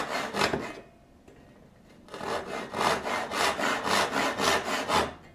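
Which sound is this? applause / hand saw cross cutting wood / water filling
hand saw cross cutting wood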